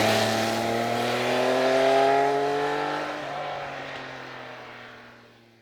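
A Triumph Speed Triple motorcycle engine pulls hard under open throttle in a high gear, a steady rising drone that swells, then fades away as it passes into the distance.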